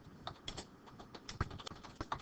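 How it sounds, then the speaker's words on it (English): Typing on a computer keyboard: a quick, uneven run of close, light key clicks in a quiet room with no talking. "we'll go ahead and use the typing feature"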